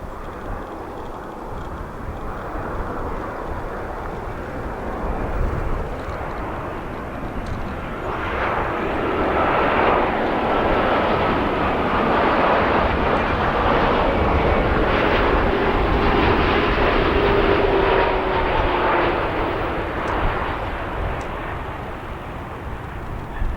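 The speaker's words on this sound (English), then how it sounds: "Two-year-old 787 will be arriving now on runway and center." A Boeing 787 airliner comes in to land at O'Hare International Airport, its jet engine roar swelling to a loud, sustained rush in the middle before easing slightly, heard alone without talk.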